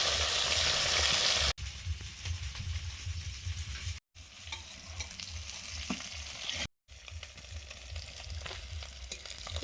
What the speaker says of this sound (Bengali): মাছগুলো ভাজা হয়ে গেল।